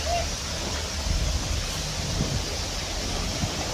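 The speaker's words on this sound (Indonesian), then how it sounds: "Asli, ini masih asri banget air terjunnya dan sungai yang mengalir." Waterfall and flowing river at Sarasah Murai in Lembah Harau, a dense, steady roar of rushing water heard up close, loud and unbroken across the whole stretch with no talking.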